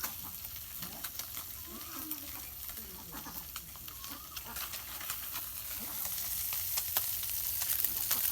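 Small puti river fish fry in oil, giving a steady hiss of sizzling with scattered crackles; a faint background of farmyard chicken clucks sits under it.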